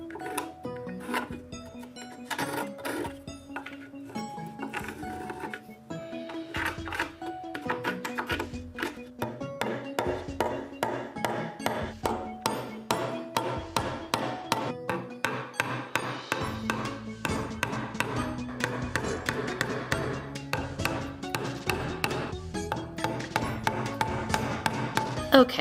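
A hammer driving nails into a wooden board to mount a staghorn fern: irregular sharp taps at first, then a long, steady run of rapid, ringing blows close by, with no talking.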